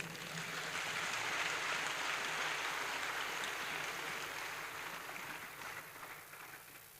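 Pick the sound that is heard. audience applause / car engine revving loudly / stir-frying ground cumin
audience applause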